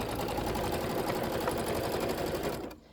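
A sewing machine runs a continuous close stitching burst on a 1/4 inch seam allowance, then stops abruptly near the end.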